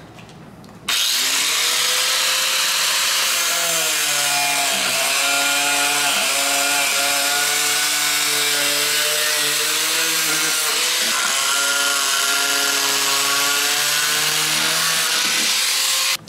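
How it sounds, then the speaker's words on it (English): A power tool cuts off a metal bracket inside a drift car, a loud, steady grinding whine that starts abruptly and holds for about fifteen seconds, with the pitch shifting slightly under load. "So I'm just gonna cut the bracket off since it's not gonna be there."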